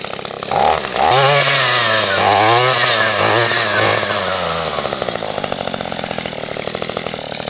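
Echo brush cutter fitted with a brush blade, loud close two-stroke engine revving and whining as the blade bites into saplings and brush, then settling to a steadier running buzz.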